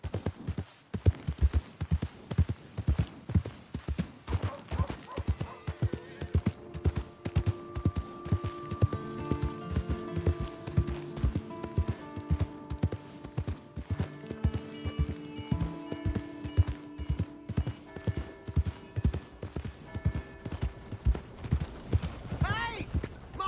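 Horse hooves clip-clop in a steady, fairly close rhythm over some 23 seconds, with background music and sound effects playing alongside.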